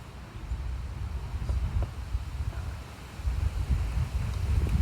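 Low, rumbling wind blowing across the microphone, steady and moderately loud with gusty swells.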